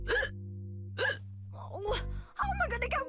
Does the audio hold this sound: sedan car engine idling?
no